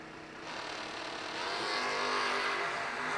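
A drag racing wagon launches hard in a wheel stand at a New Year Nationals drag race, its engine roar swelling and rising over about three seconds as it pulls away.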